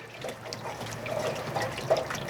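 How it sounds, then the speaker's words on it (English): Water draining from an RV hot water tank, a soft steady trickle and splash of liquid running out, faint and close. "So the whole idea is to drain your hot water tank."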